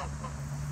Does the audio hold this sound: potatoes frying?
no